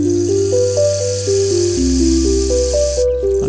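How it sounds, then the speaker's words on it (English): Rain stick sample in a mellow music track, a continuous bright rattling hiss of falling beads over a stepping melody and bass, cutting off sharply near the end. "Rain stick."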